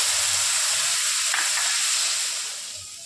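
Onion paste hitting hot oil with whole cumin and bay leaf for a papaya fish curry makes a loud, continuous sizzling hiss close by. It eases down toward the end, with no voices.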